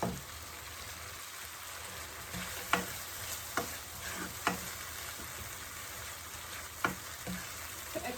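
Cooked dal fries with tomato and spices in a pan, a steady soft sizzle broken by occasional sharp clacks of a spoon stirring against the vessel, heard close and fairly quiet with no one talking.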